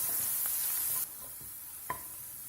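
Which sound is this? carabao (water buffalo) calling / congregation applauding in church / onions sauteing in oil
onions sauteing in oil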